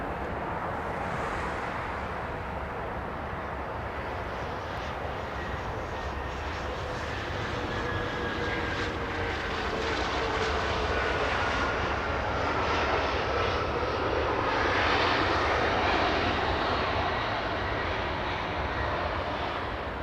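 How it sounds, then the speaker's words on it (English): A SkyWest CRJ regional jet arriving at Los Angeles International Airport after a flight from Sacramento, its engines a broad, sustained roar that builds slowly and peaks near the end. "Do we have a little CRJ coming in?"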